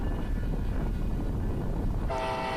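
Union Pacific train rumbling through a control point on the Evanston Subdivision, a steady loud low roar of rolling cars with a brief horn-like tonal blast near the end.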